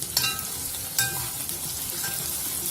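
Chopped onion and green chili fry in a pan with a steady, even sizzle, broken by two sharp scraping stirs near the start and one softer stir later.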